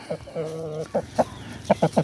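A Thai fighting rooster clucking close by, a drawn-out call followed by several short, sharp clucks in quick succession, with faint background noise.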